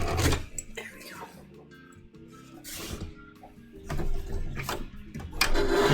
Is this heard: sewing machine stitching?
yes